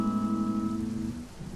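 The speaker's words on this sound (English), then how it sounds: "when it keeps raining." Steady rain falls as an even, close hiss, with a sustained low musical tone running beneath it for most of the clip.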